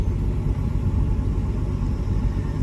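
A Plymouth slant six engine running with a slight miss, a steady low rumbling idle heard up close with no voices.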